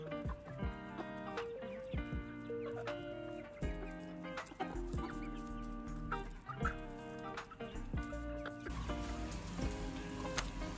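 Hens cluck and squawk repeatedly at close range, a busy overlapping chorus of short calls with some clattering.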